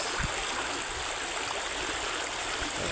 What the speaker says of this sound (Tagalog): Ito yung pinapaliguan natin na magandang paliguan.